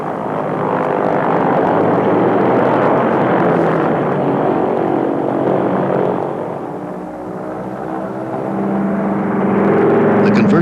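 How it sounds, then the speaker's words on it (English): Converted C-130 flying laboratory at NASA Ames Research Center preparing for takeoff, its engines giving a loud, steady, broad roar that sags briefly midway and then swells again. "a specially equipped aircraft prepares for takeoff"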